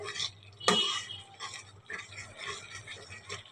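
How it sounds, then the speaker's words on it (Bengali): Pabda fish curry masala stirred in a pan: a series of scraping, rustling spatula strokes with one sharp clack against the pan, close and fairly quiet, without speech. "এবার 2 মিনিট নাড়াচাড়া করতে হবে"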